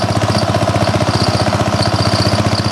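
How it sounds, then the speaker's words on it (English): A 1947 Winco generator engine runs steadily at close range, a loud, even, rapid chugging pulse throughout with no voices. "Aaron's hauling the generator up that we're going to use for running the saw and stuff"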